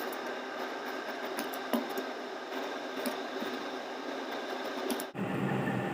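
A sewing machine runs steadily, stitching the back neckline of a peplum frock, with a close, even mechanical whir and faint ticking that cuts off abruptly near the end.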